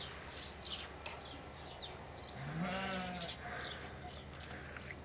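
A single faint, wavering bleat rises from the flock as milk lambs reunite with their ewes on a farm, heard at a distance over a quiet, steady outdoor background.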